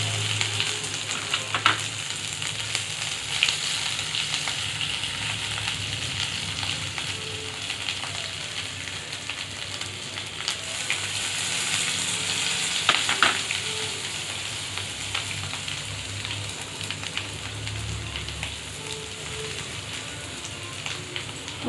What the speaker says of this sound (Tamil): இப்போ உருளைக்கிழங்க நல்லா மேஷ் பண்ணி உள்ளே சேர்த்துக்கலாம்.